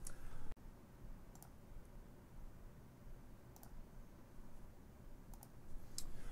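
A computer mouse clicks a few times, small sharp ticks spaced out over several seconds, close but faint against a steady quiet room hiss, with a louder thump near the start and no speech.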